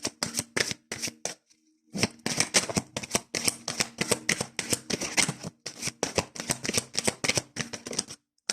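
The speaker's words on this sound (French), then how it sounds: "on va faire le tirage avec l'oracle de l'âme intuitive de Lisa Williams" Oracle cards are shuffled for a tarot-style reading, giving a steady run of crisp riffling bursts and papery flutters, close and fairly loud, with a few short pauses between rounds and no talk.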